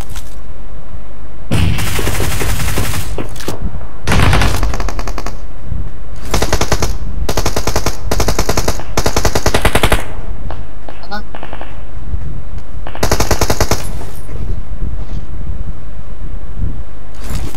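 Gunfire in the PUBG Mobile video game, loud bursts of automatic fire in repeated clusters with short gaps between, under a player talking.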